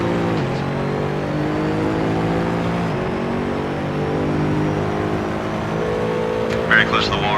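Race car engine of a Mercedes SLS AMG GT3 in Assetto Corsa at Spa-Francorchamps, a steady loud drone with rising pitch through the gears, short dips at upshifts, and a brief clatter near the end.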